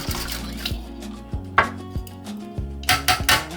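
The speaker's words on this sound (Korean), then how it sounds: "바트에 계란, 우유, 설탕을 넣고 잘 섞어줍니다." Eggs, milk and sugar for French toast are mixed in a metal tray, giving a quick series of close clinks and taps. The hits come irregularly, a few of them sharper and louder.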